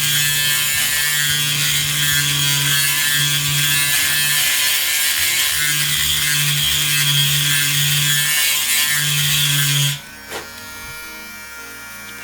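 A drill or rotary tool grinding at the metal of a snare drum shell to enlarge a hardware hole, a loud steady whining buzz for about ten seconds before it abruptly stops, followed by brief faint rattles.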